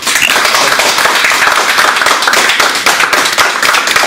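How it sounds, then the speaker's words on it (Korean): An audience at a lecture applauds steadily, dense clapping filling several seconds at full volume without letting up. "여기까지 일단 큰 박수로."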